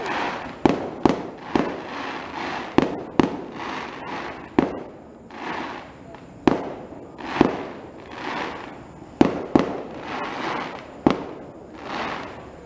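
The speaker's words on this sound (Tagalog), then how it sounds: "Ganda ng fireworks." Fireworks outdoors: a long run of sharp bangs at uneven intervals, roughly fifteen bursts, each trailed by crackling and a fading roar. No talk is heard.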